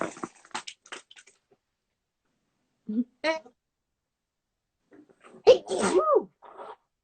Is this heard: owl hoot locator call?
no